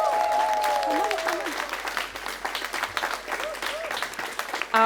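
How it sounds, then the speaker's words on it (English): Crowd applause at a City of San Diego Hispanic Latino Heritage Month celebration, steady dense clapping throughout with voices and brief whoops mixed in. "Let's give her a round of applause."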